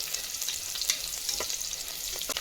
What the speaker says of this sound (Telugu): జీడిపప్పు యాడ్ చేసుకున్నాక ఫ్రై చేసుకుంటాము.